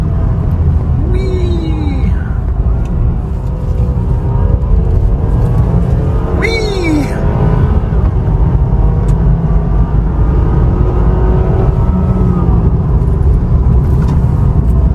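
A 2014 Cadillac ATS 2.0T AWD sports sedan driving, a steady low engine and road rumble from inside the cabin with engine tone rising through gears and two brief chiming alert sounds.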